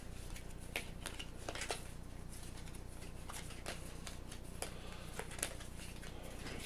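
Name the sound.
shuffling playing cards for Aeon's End board game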